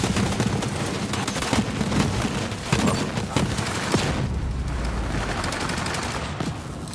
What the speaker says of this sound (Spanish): la ametralladora hace muchísimo daño